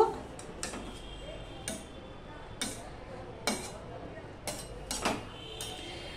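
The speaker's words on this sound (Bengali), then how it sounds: "এবার আমি এটাকে একটু উপর নিচ করে দেব" Utensil scraping and clinking against a pan as cabbage with a fish head is turned over, several sharp knocks spaced a second or so apart over a low background hum.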